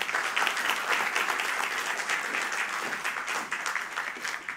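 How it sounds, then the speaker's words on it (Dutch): Sustained audience applause for a guest lecturer at a university public lecture, a steady dense wash of clapping hands filling the hall without letup. "Dus geef een groot applaus voor Stefan van der Stichel."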